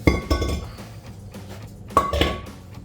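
Metal brake rotor pulled off the hub of a Jeep Wrangler JK, giving a few sharp metallic clinks and clanks with a ringing tone, near and moderately loud, with no talking.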